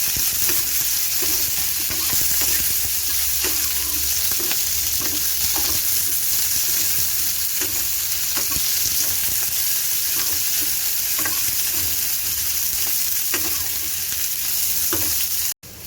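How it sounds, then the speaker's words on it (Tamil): Onion and green chili sautéing in oil for a coconut chutney, a dense steady sizzle with repeated spatula stirs scraping the pan, close up, no talking, ending abruptly. "பச்சை மிளகாயும் சேர்த்துக்கிறேன். சேர்த்து நல்லா வதக்கி விட்டுக்கலாம்."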